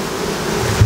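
Honey bees hum in a steady, close drone at the top of an open hive whose uppermost super is full of capping honey, a brief continuous buzz with no talking.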